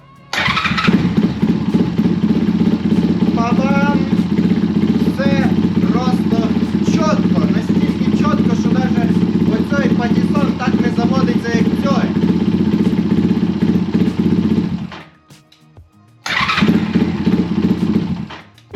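A GEON X-Ride 190cc pit bike is started with its electric starter and settles into a loud, steady idle nearby. The engine runs continuously for about fifteen seconds, cuts out briefly, then runs again. A person talks over it.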